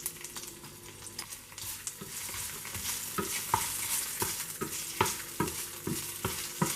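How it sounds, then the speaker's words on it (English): Green chilies and ginger garlic paste frying in a pan while bitter gourd fry is made, with a steady sizzle broken by repeated sharp scrapes and clacks of a spoon stirring, close and alone. "Add chopped green chilies. Add half a tablespoon of ginger garlic paste."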